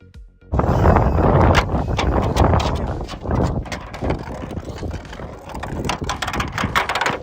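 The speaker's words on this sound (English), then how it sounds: "out here today on a windy day" Strong gusty wind buffets the microphone in a loud, continuous roar that swells and eases, with rattling and flapping underneath.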